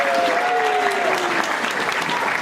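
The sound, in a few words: audience applause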